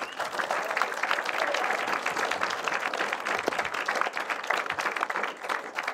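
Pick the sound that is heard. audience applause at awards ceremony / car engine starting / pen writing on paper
audience applause at awards ceremony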